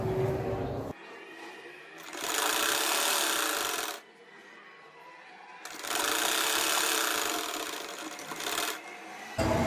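A sewing machine stitches together the skirt pieces of a baby frock in two loud bursts of whirring, with a short pause between them and brief quiet gaps before and after.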